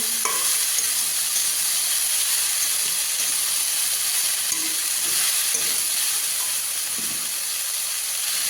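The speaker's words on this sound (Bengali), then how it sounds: "ভালো করে শাকটা এবার নাড়াচাড়া করে নেবো আলুর সাথে।" Fresh kalmi (water spinach) greens being stirred with fried potatoes in a pan, a steady sizzling hiss throughout with occasional soft scraping strokes of the spatula, close and continuous with no talking.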